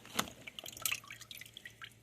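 Water left from rinsed strawberries and grapes drains out of a fridge fruit container in faint, scattered drips and small trickles, heard up close and quietly.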